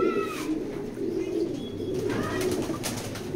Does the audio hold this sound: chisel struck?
no